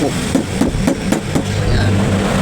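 Metal tapping on the motor housing of a standard stand fan during rewinding repair: about six sharp, evenly spaced knocks, close and moderately loud over a low steady background hum.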